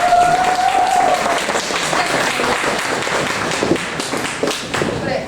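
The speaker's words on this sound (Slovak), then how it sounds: "A ešte môžem poprosiť potlesk pre umy, ktoré dneska pretekali v parku." An audience at an anime convention claps loudly in a dense burst of applause that gradually thins into scattered claps, with a few voices mixed in.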